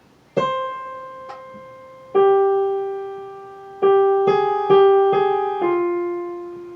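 A single piano plays a slow melody line from Khachaturian's Andantino, one clear note at a time, each ringing out and decaying before the next, with a few notes in quicker succession.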